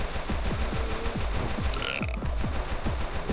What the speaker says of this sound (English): Managed to dodge the lethal belch.